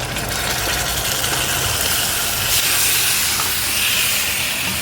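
Spice-marinated chicken dropped into a hot pan with fried onion and capsicum gives a loud, continuous close hiss and sizzle that holds steady throughout, with no talking.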